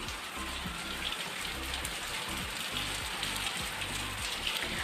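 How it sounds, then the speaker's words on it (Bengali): Rain falling outside onto a courtyard, heard as a steady, dense patter of drops that stays uniform and moderately soft from start to finish. "এখনই বৃষ্টি হয়ে গেল, উঠোনের অবস্থা।"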